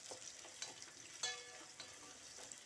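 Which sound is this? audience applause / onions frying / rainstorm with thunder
onions frying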